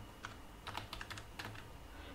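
Quiet keystrokes on a computer keyboard as code is typed, a short irregular burst of soft clicks over faint room hum, with no talk.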